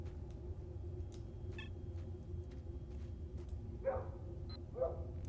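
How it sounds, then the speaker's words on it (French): Distant dogs barking in the video game STALKER: Shadow of Chernobyl, a few faint short barks over a low ambient rumble, clustered near the end. "Ça aboie vachement."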